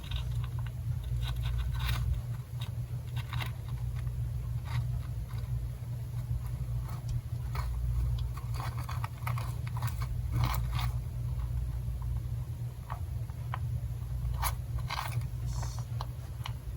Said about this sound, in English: You can hear him scraping the food that he's storing under there.